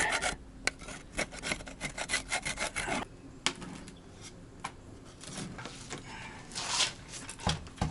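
Old silicone is scraped off a Honda generator box on a budget overland camper in quick rough rasping strokes, close and dense at first, then sparser with brief pauses.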